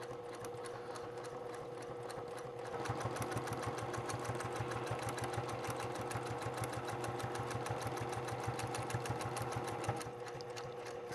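A sewing machine runs steadily and close, its needle chattering in a fast even rhythm as it top-stitches the edge of a cork fabric wallet, slowing briefly at the start and end.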